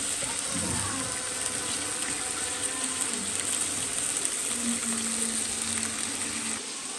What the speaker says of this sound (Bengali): আমরা হচ্ছে এখন মাছটা দিয়ে দেব সাথে আলু দিয়ে দেবো